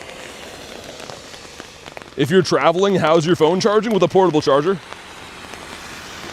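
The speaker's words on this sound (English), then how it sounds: "Also, holy, listen to that rain." Steady rain pattering outdoors, a continuous soft hiss of drops that runs underneath someone talking close by in the middle of the stretch.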